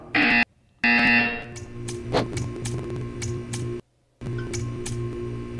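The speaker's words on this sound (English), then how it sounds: "You will hear a buzzer." A test chamber buzzer from Portal 2 blares in two loud bursts, cuts off, and then a steady electronic drone with ticking runs on. A brief gap of silence comes later, and there is no speech.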